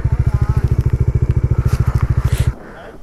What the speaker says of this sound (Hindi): मैं बाइक करता हूँ साइड पे खड़ी